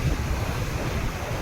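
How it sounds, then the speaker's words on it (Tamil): Rough sea pounds the shore at Pillaithoppu beach in rainy, stormy weather, a continuous loud roar of surf mixed with wind buffeting the microphone, with no voices. "கடல் சீற்றம் அதிகமாக காணப்படுகிறது."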